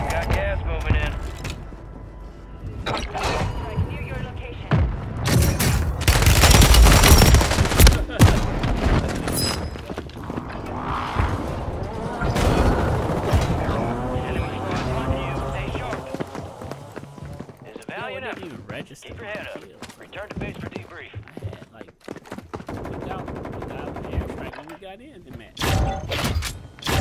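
Video game gunfire crackles in irregular bursts with booming thuds and mechanical clatter, loudest early on and sparser later, with voices talking over it throughout.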